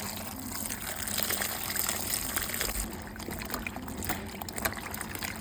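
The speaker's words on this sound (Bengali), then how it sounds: "জল দিয়ে ভালো করে ধুয়ে নেব।" Bottle gourd being washed under running water, a steady close gush and splash with uneven trickling bursts and no speech.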